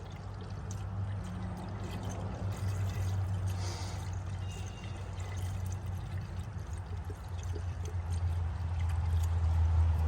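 Water is poured into a Range Rover's engine coolant system, a steady continuous pour with a low rushing gurgle that holds throughout and grows slightly louder toward the end, close by with no talk.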